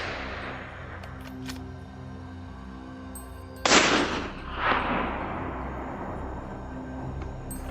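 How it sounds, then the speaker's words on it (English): A rifle shot fired at a wild boar on a hillside, one sharp loud crack followed by a rolling echo and a second burst of noise, set against quiet background hum. "The shot is clean, direct, lethal."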